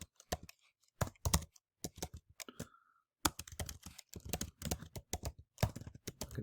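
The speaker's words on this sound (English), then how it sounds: "I can type here." Close, crisp typing on a computer keyboard comes in quick clattering runs of keystrokes, broken by short pauses, with no voice over it.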